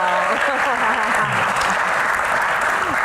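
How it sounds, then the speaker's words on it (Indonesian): An audience at a Q&A session applauds loudly and continuously, a thick wall of clapping that runs throughout, with voices and cheering audible within it. "tepuk tangan lagi dong"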